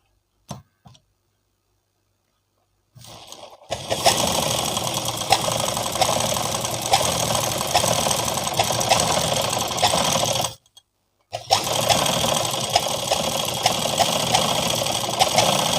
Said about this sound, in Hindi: स्लीव्स को पलट कर इस तरह से ऊपर की सिलाई लगा लेंगे।